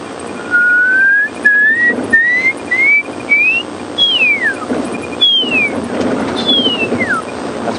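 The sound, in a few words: whistled imitation of a pearl-spotted owl call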